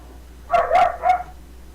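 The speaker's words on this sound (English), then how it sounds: "The dogs are not happy with each other." Dogs bark at each other in three quick close barks in a row, fairly loud over a quiet background with no talk.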